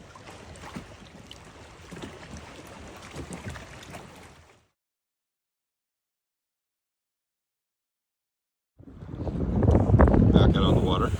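Strong gusts of wind on a lake during a kayak outing buffet the microphone in loud roaring bursts, with choppy whitecapped water around. A few seconds of wind cut to silence and then resume more heavily, with a voice mixed in.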